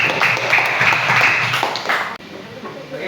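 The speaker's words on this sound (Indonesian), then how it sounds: "tepuk tangan semuanya." Children in a classroom clap together for about two seconds, a dense, close patter of many small hands that stops abruptly, leaving quiet room tone with faint voices.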